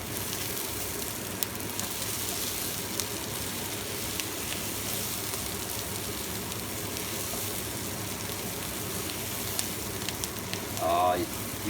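Paprika potatoes stirred in a hot pan give a steady, even sizzle and frying hiss that runs throughout at close range, with a brief scrape near the end.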